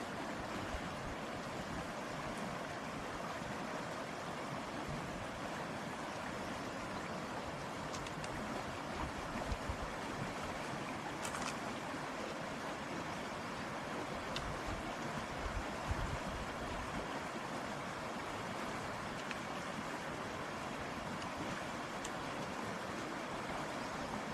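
A waterfall rushes beside a hillside cooking spot in the shade of a neem tree among the hills, giving a steady, continuous roar of falling water that fills the whole stretch with no voices.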